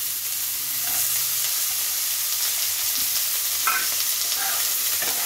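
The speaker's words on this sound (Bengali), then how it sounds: "আলুটাকে আমি পেঁয়াজের সঙ্গে ভাজা করে নিচ্ছি।" Long-cut potato strips stir-fry with onion in a pan of oil, giving a dense, even sizzle throughout, broken by occasional light spatula scrapes and taps, with no one speaking.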